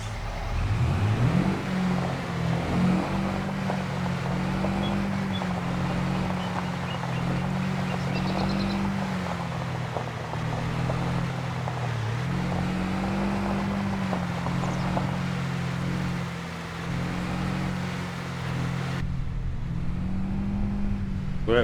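A pickup truck in Farming Simulator 25 rolls across a bumpy creek, its engine droning steadily with repeated rising and falling revs over a low rumble and faint splashing, close and continuous.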